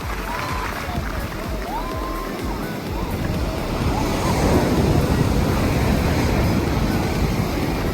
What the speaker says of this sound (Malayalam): പ്രക്ഷുബ്ധമായ കടൽ.